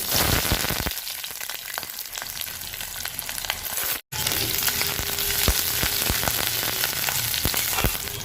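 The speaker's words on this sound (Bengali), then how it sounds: "প্রথমে আমি কড়াইতে পেঁয়াজ কুচিটা দিয়ে দিব।" Chopped onion frying in refined oil in a wok, a loud continuous close sizzle with popping crackles and occasional stirring clicks, briefly cutting out midway.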